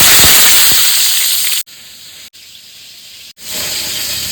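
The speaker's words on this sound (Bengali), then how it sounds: "তেল গরম হয়ে গেছে, এবার পটলগুলো আমি নরম করে ভেজে নেব।" Sliced pointed gourd (potol) sizzles in hot oil with a loud, close, bright hiss and crackle that cuts out twice and then resumes strongly.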